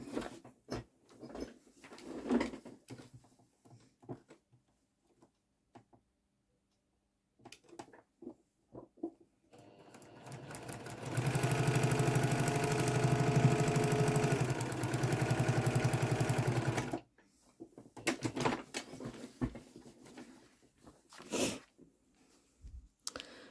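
A sewing machine runs in one steady burst for several seconds, stitching quilt tree block pieces, with quieter handling clicks and rustles before and after.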